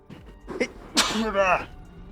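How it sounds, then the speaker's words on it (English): A single sharp human sneeze with a quick intake before it, close to the microphone during a Satisfactory game stream, and brief voice sounds around it. "I sneezed."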